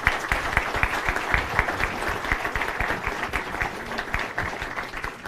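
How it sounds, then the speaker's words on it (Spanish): Warm applause from an audience in the Senate of the Republic in Mexico, welcoming a doctor to present a book; steady, dense clapping runs for about five seconds at moderate loudness with no voices over it. "recibimos con un cálido aplauso al doctor Carbonell"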